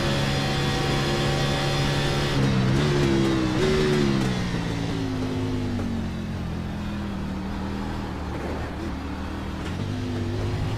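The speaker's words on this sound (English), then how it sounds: "Listen to the throttle. Here, feathering it just a little bit there in that final corner." A race car engine in the iRacing sim drones loudly and steadily, its pitch sliding up and down as the throttle is feathered through a corner, with a sustained harmonic whine throughout.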